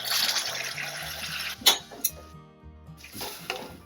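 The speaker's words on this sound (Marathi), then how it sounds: "आता आपण जवळजवळ अर्धा ग्लास पाणी घालून घेऊ" Hot water is poured into a pan of simmering raw-mango curry with turmeric and salt, a steady splashing hiss that stops, followed by a couple of clinks and a brief second trickle.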